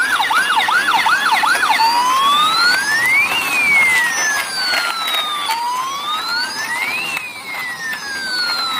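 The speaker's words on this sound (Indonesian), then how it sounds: "Oke, wow, ini ada mobil ambulan." An ambulance siren wails close by on a street, cycling through rapid yelping sweeps before switching to long rising and falling wails, loud and continuous with no talk.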